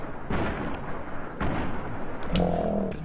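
Gunfire in Fallout New Vegas, aimed at an enemy's legs: two heavy, booming shots about a second apart, followed by a rumbling tail and a brief ringing tone near the end.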